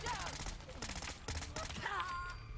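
An OTs-02 Kiparis submachine gun mod firing fast bursts in Fallout 4, a rapid rattling string of shots with brief pauses and someone talking over it.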